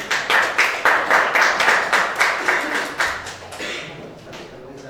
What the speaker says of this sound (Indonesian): Tepuk tangan untuk kelompok 3 ya.